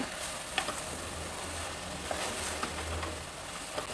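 Tomatoes with rice and lentils fry and sizzle steadily in a pan, a constant crackling hiss with occasional scraping stirs, close and alone with no talk.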